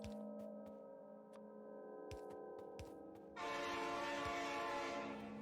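A train horn sounds in the video game Factorio as a train passes close by: a sustained, steady horn tone over a faint rhythmic clatter, growing louder and brighter partway through, with no talk.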